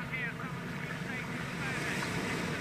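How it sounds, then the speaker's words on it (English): Churning backwash from a boat passing under a railway bridge, a dense continuous rush of water and wind noise that fills the whole stretch, loud and close. "Listen to the backwash now."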